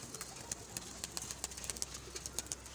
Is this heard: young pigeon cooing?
yes